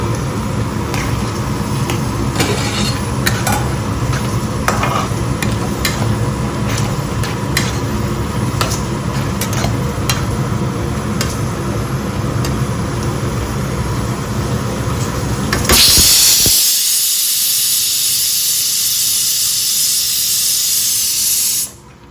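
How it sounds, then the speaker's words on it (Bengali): Poppy seed paste fries in a pan over high heat, a loud steady sizzle and hiss with scattered scraping taps of stirring, close up, then a sudden rush of louder spraying sizzle near the end before it cuts off. "পোস্তটা দিয়ে দিয়েছি, এবার একটু হাই আঁচ করবো।"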